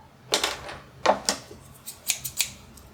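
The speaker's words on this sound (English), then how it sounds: "Ooh, she's getting better at cutting out circles." Scissors snipping circles out of suede for a leather dice bag, several crisp, close cuts coming in short irregular bursts with no talking.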